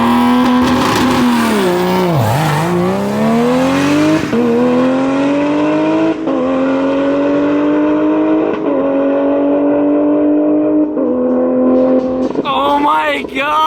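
A Barra-engined Ford GT350 on a drag racing pass, its loud engine winding up and snapping through about five gear changes, each shift a brief dip before the pitch climbs again, fading out at the end.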